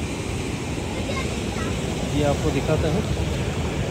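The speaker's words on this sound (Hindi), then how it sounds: "हमारे पीछे आप दरिया देख सकते हो, काफ़ी ज़्यादा दरिया है।" A broad river rushes in Marwah Valley near Tatta Pani, Kishtwar, making a steady, full roar that swells slightly midway. Someone talks over it.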